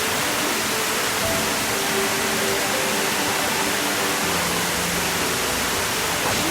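A waterfall roughly seven storeys high in Thailand's Phetchabun province sends up a steady, dense roar of rushing water, continuous and even throughout with no voices.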